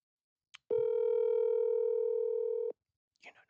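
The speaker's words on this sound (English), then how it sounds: "Let's see if we can get Greg on the phone." A steady telephone tone of about two seconds starts after a short click and stops abruptly, followed by faint background noise on the line.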